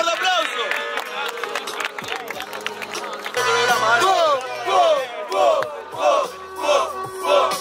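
Crowd at a rap battle at Hypnotic Palace roaring and applauding, a dense wash of voices and claps with rhythmic surging shouts building in waves toward the end.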